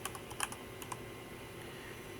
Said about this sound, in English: we're just going to start by typing in delivering effective presentations